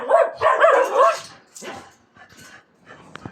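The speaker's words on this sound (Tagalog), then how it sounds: "Ingay yung aso." A dog barks and yips repeatedly at close range during a roof repair with new corrugated metal sheets and grills, loud bursts at first then sparser, fainter barks.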